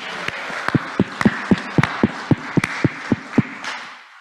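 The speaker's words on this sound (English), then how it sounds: "Can we give this man a round of applause" Hand claps at a church Sunday service sound as a sparse, evenly spaced series of about a dozen sharp claps, fairly close and moderately loud, fading out at the end.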